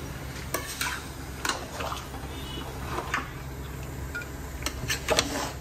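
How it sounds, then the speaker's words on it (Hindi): Ginger-garlic paste being stirred in a cooking pot for mutton biryani, with repeated sharp spoon knocks and scrapes against the metal over a low sizzle, close and irregular. "ये हो गया अदरक लहसुन और अब अच्छे से इसको चल मिला देते हैं।"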